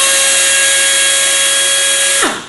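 A Torc-Up pneumatic torque tool's air motor runs in reverse at 30 psi with a loud, steady high whine, then winds down sharply at the end, close up with no talking.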